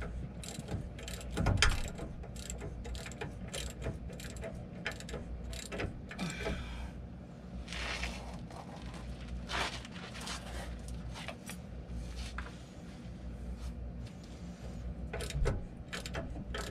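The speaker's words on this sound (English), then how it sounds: "Grab the 3/8 ratchet." A 3/8-inch ratchet turns fasteners during a Dana 60 axle install on a 1974 Dodge W200 truck, giving repeated close clicking and mechanical ratcheting bursts with a louder clatter near the start and end.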